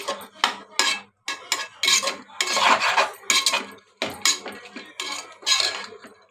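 Cabbage is stirred in a metal pan with a spoon, giving close, loud bursts of scraping, rattling and clinking that stop and start in an uneven rhythm with brief silent gaps between strokes.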